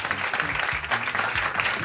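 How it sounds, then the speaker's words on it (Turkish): An audience at a quiz night show applauds in a dense, steady burst of clapping, close and loud throughout. "Birce Akalay'ı bir alkışlayalım."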